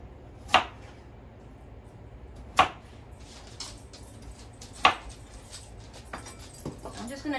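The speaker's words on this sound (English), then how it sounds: "I just chop them up into chunks" Knife chopping peeled tomatoes into chunks on a board: three sharp, well-spaced chops about two seconds apart, then lighter cutting taps toward the end, close and fairly quiet with no talk.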